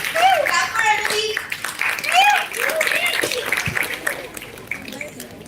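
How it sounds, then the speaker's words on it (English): Audience clapping, heard as a loose patter of hands beneath children's excited voices and chatter that dominate the mix. "Clap for Anvi."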